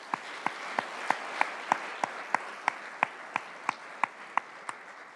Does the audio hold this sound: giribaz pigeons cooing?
no